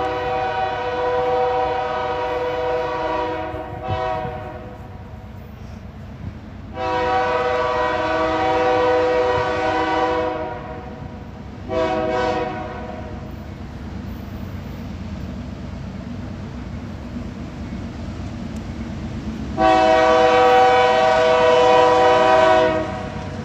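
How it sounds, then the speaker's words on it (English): A freight train with a CSX locomotive among its power rolls past in Folkston, Georgia, sounding several loud, sustained horn blasts separated by pauses over a steady rumble of passing cars. "It looks like he's got a CSX locomotive with him."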